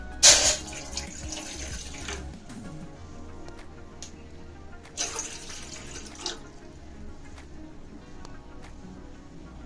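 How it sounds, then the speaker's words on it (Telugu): Water runs from a tap in a sharp burst, then a steady quieter flow with a second gush midway, close by with no talking, as 500 ml of water is poured into a pan on the stove. "ఇప్పుడు స్టవ్ ఆన్ చేసి బాండీ పెట్టుకుని ఫైవ్ హండ్రెడ్ ఎంఎల్ వాటర్ వేసుకోవాలి"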